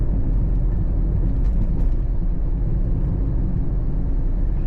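A Toyota Aygo small car cruises along UK country roads, heard from inside as a steady low engine and road rumble that stays constant and close throughout, with no talking.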